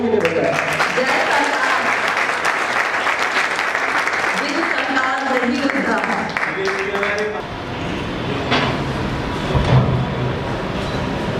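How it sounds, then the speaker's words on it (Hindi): Loud applause from an audience at a bank branch inauguration in India, heavy clapping for several seconds that thins out toward the end amid some background noise and knocks. "हम जोरदार तालियां इन दोनों के लिए बजाएं।"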